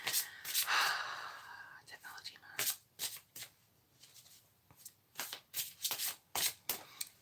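Tarot cards from a Fairy Tarot deck shuffled off camera, a series of short, soft riffling bursts in an uneven rhythm, fairly close and quiet, with faint breathing between them.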